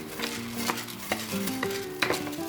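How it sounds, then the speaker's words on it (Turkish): Washed rice stirred and toasted in vegetable oil in a pan for an eggplant-wrapped pilaf, with a steady soft sizzle and spoon scrapes and clinks against the pan, close and alone. "Şöyle pirinçlerimiz renk değiştirene kadar güzel bir kavuralım."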